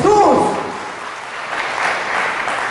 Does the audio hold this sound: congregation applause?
yes